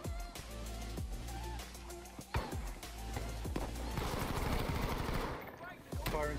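Gunfire in the shooter game Battlefield V: dense rapid automatic bursts and sharp single shots crackle continuously over a steady game background, loud and close throughout.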